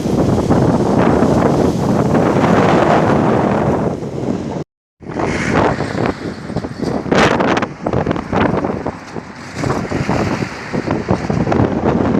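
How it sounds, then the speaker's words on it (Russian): Steady broadband wind roar buffets the microphone while cycling against a headwind on an asphalt road in China, loud and continuous with a brief dropout midway, no talking. "Ехать против ветра."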